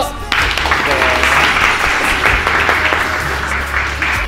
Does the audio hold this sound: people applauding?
yes